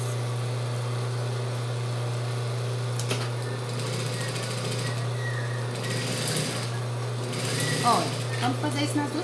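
Sewing machine stitching a seam across two small fabric pieces for a child's overall, a steady close mechanical hum running throughout with faint handling noises near the end.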